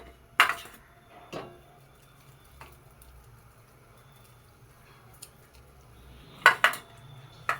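A metal kadai pan clanks as it is set down on the stove, then sharp metallic knocks and a short pour of milk splashing into it, separated by quiet pauses, close and crisp.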